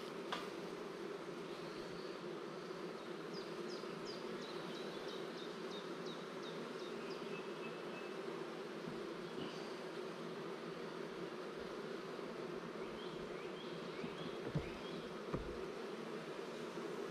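Honeybees buzzing outdoors around hives in a mating apiary, with drone hives carrying two supers in the background; a steady, soft insect drone throughout, with occasional bird chirps over it.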